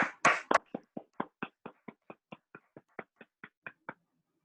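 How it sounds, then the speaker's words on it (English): A few people at a Toastmasters area meeting clap, with a couple of loud opening claps followed by a steady run of single, evenly spaced, fairly close hand claps that gradually soften. "A big round of applause."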